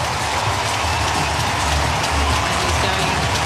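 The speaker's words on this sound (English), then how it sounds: "there's the round of applause for Parker" A stadium crowd at an AFL match between Sydney Swans and North Melbourne applauds player Luke Parker, a steady broad roar of clapping and cheering that holds for several seconds.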